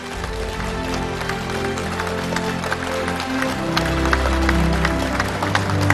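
Dense applause from a large crowd over steady background music, sustained and swelling slightly toward the end.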